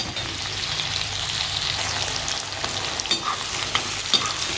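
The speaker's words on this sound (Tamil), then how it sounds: "நல்லா வதக்கி விட்டுக்கிட்டே இருங்க. இப்போ பாருங்கள், வெங்காயமும் பூண்டும் நல்லா வதங்கிருச்சு." Onions and garlic sautéing in oil for a traditional sankara fish curry, a steady close sizzle and crackle with occasional stirring scrapes and small spatters throughout, no talk.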